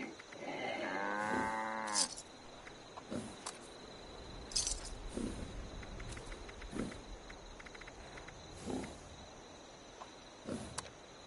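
A cow in Fallout 76 lets out one long, loud moo near the start, followed by quieter game ambience with scattered soft thumps and clinks.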